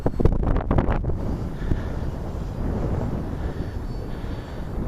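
A Hobbyking F4U Corsair RC warbird cruises overhead, its faint electric motor drone nearly buried under heavy, gusty wind buffeting the microphone, with louder rumbling bursts in the first second.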